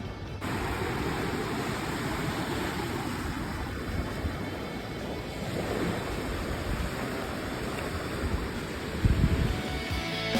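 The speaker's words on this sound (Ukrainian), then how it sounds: "За моєю спиною, як ви бачите, море, пляж" Sea surf rolling onto the beach at Cromer, a steady broadband wash of breaking waves with wind buffeting the microphone, continuous and fairly close, with a slightly stronger surge near the end.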